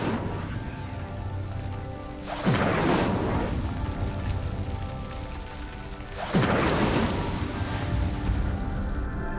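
Two big whooshing fire bursts from the Incendio spell in Hogwarts Legacy, each a loud roaring flare at roughly four-second intervals over a steady game ambience, with no talking.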